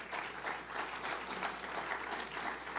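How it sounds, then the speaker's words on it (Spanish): Sustained applause from a church congregation, steady clapping throughout at a fairly loud level with no pauses. "denle un aplauso al Señor"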